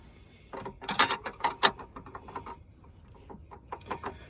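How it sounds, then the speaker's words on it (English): A socket ratchet tightens a track rod end on an Iveco Daily van, giving close bursts of rapid clicking, louder at first and then lighter, more scattered clicks. "you can get the socket back up and obviously do it up to the correct torque"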